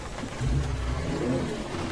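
Rain drumming in American Truck Simulator while driving a truck in Washington, a steady dense wash of noise with a low rumble underneath, continuous and fairly loud.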